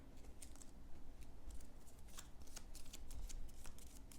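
Eldritch Horror game cards being shuffled in quick riffling bursts, a steady papery flutter with sharper snaps throughout, alone and close.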